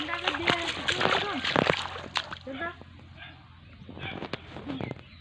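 Water sloshes and splashes in a farm field irrigation channel with children bathing in it, in uneven bursts under frequent nearby talk and children's voices.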